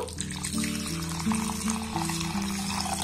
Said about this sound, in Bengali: এবার এই চালটার মধ্যে আমি জল দিয়ে দেব।